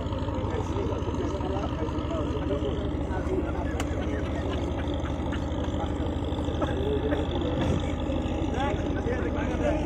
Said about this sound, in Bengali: এখান থেকে একটা জাহাজ যাইতেছে